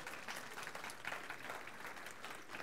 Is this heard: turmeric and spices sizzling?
no